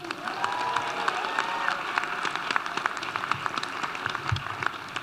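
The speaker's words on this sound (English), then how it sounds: "the graduating class, please give yourself a round of applause for this outstanding achievement" A graduating class at a Black Celebratory ceremony applauds, a steady crackle of many hands clapping throughout with scattered cheers from the crowd.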